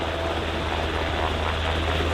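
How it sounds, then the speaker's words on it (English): USCG MH-60 Jayhawk and MH-65 Dolphin helicopters at an airshow search-and-rescue demonstration in London give off a steady, dense rotor and turbine roar, continuous and fairly distant with no voices. "You'll see that these helicopters would move away from the scene of the incident."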